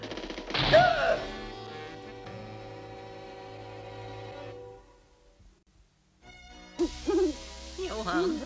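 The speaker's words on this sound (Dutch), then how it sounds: "Alleen maar een uil." An owl hoots near a deserted haunted castle in an animated story, a soft, low call followed by a long quiet stretch before voices start talking.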